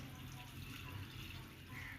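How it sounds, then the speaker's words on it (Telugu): Water trickles softly onto leftover overnight cooked rice in a bowl, a faint continuous pour with a voice speaking quietly alongside. "ఇది దీన్ని కొంచెం వాటర్ వేసుకొని"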